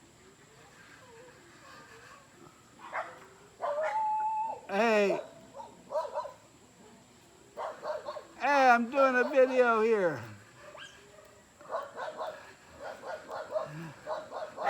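Dogs bark and whimper at a home in the Philippines, with a few close, loud bursts mid-way between stretches of someone talking.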